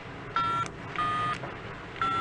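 Touch-tone telephone keypad dialing in an office setting: three separate beeping tone bursts, each about a third of a second, clear and close over a faint background hiss, with no talking.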